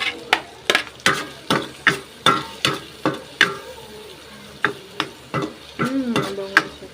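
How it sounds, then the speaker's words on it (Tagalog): Garlic and onion sautéing in a pan for carbonara, a spatula knocking and scraping in a steady rhythm of sharp strikes over a soft, continuous sizzle. "Magigisa na tayo ng bawang"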